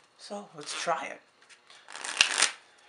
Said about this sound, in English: Deck's shuffled